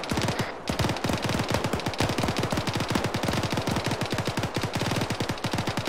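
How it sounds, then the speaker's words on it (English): Heavy, sustained automatic gunfire in a combat video game, a dense and rapid stream of loud shots that runs almost without a break. "That's a lot of fucking bullets"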